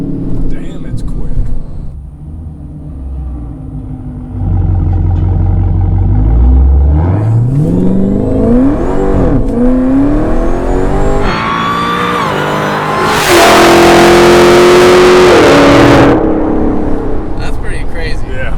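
A 1000 HP Hennessey Dodge Challenger Hellcat Redeye accelerating hard from inside, a loud rising engine roar that climbs through the gears with brief shift breaks, with people talking over it.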